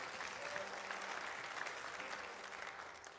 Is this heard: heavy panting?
no